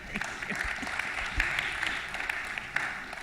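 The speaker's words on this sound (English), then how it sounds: "Some people started clapping." Audience members at a symposium session on relationships with Israel break into scattered clapping, a moderate patter of hands heard somewhat distant in a hall, with a few louder claps standing out.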